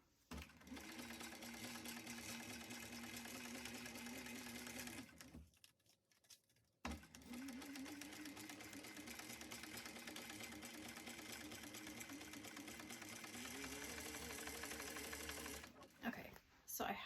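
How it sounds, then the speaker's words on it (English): A sewing machine topstitches the fabric edges of a bag, running in two long steady bursts with a short pause between, close and faint, with talk heard faintly alongside. "go ahead and top stitch both edges on your middle accent piece"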